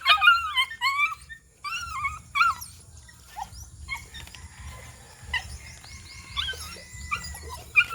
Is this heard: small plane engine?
no